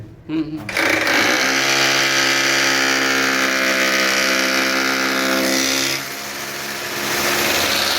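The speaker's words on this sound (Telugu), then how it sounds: "మనం హ్యామ మిషన్తో వేసుకోవాలి ఇప్పుడు నేను కన్నవాన్ని వేస్తున్నాను" A hammer drill bores holes for screws and wall plugs during a home woodworking job, its motor whining loudly and steadily for about five seconds before easing to a lower drone.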